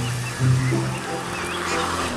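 A white duck gives a short nasal quack close by, over a busy background of other sounds.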